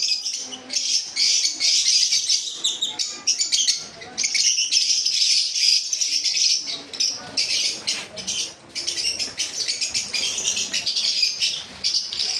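Caged lovebirds, java sparrows and cockatiels at a bird shop chatter in a loud, continuous chorus of shrill chirps and squawks, close by, with brief pauses and occasional wing flutters.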